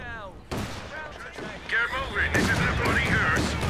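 Machine gun squad firing in the battle game Company of Heroes 2, heard as continuous bursts and rattling fire mixed with explosions, with a player talking over the combat.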